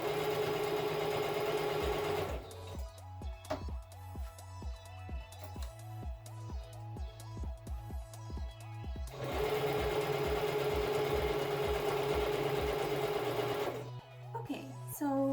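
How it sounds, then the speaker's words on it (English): A sewing machine stitches along the top of a pleated skirt, running in a steady close whir for several seconds. A stretch of faint, even hum comes before the stitching and returns after it, with brief short runs near the end. "Now I can sew along the top of my skirt to keep all my pleats together."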